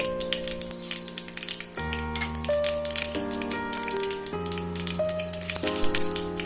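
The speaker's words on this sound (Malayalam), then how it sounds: "ഒരു നുള്ള് കടുക് ഇട്ട് കൊടുക്കാം." Mustard seeds crackle and splutter in hot ghee in a kadai while mushroom pepper fry is being made, with quick sharp pops scattered over a steady tonal music bed.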